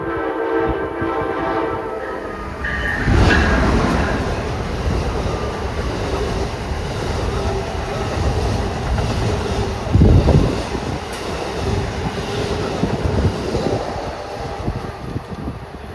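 A train passes loudly through a station, with heavy rumbling wheels and a blaring horn blast near the start and another around the middle, over a constant roar.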